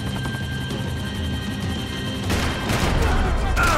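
Gunfire aimed at the player in the action shooter Max Payne 3, with a steady rumble of game noise underneath and then a sharper burst of dense, crackling shots in the last second and a half.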